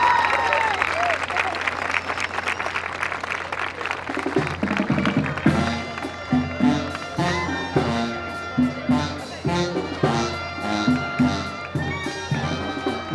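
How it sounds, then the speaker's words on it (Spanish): Carnival crowd in Mocorito applauding as a queen candidate is presented, a dense wash of clapping giving way to music with strong beats and a voice over the top. "María José Angulo Leiva, fuerte el aplauso."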